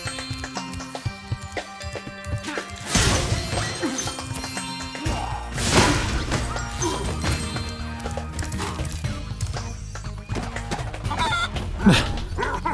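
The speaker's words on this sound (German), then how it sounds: "Das ist aber ein dickes Huhn." A plump chicken clucking in Spyro Reignited Trilogy, clucks and squawks over busy game music and effects, with bursts of louder action partway through.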